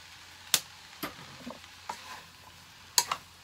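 Palabok sauce stirred in a pan, heard as a few scattered scrapes and light taps of a utensil against the pan over a faint background hiss.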